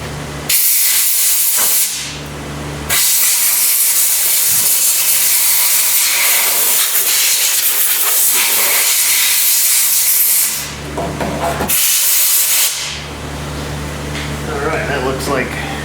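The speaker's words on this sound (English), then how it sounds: "Let me get a blow nozzle." Compressed air from a blow nozzle hisses in loud, sustained bursts as it clears heavy dirt off a 2020 Ram 1500 Rebel pickup near the taillight, cutting out briefly twice between long blasts.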